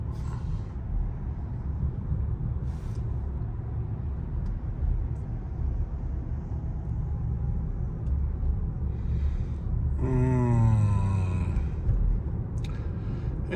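Steady low road rumble and wind hiss fill the cabin of a Cadillac Optiq electric SUV cruising on the road, with a brief rising whine partway through.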